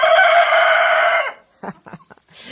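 A long, drawn-out crow rings out, followed by a few short, scattered clucks from a nearby chicken, in a village yard with Cochin hens.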